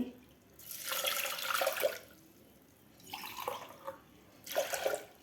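Water pours into a pressure cooker with dal in three short bursts separated by pauses, a close, splashing trickle with no talking.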